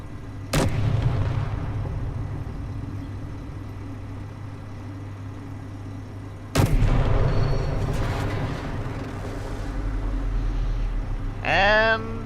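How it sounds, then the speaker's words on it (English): Standard tank guns fire in the game Space Engineers: two loud, close booms several seconds apart, each with a rumbling tail, over a constant low engine hum, with a short rising electronic whine near the end. "let's give it a few shots. With your standard tank guns."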